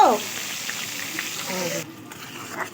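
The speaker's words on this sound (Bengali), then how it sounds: "মাছের মশলাটা কষাচ্ছি এর মধ্যে দিয়েছি আদা রসুন জিরে শুকনো লঙ্কা পেস্ট করেছি" A paste of ginger, garlic, cumin and dried chilli for fish masala fries in a home kitchen, a moderate steady sizzle that drops out briefly near the end, with faint voices in the background.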